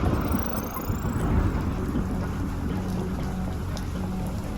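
Heavy rain and a rumbling storm in the video game UnMetal roar steadily, with a low, wind-like wash and faint water spatter throughout, no voices.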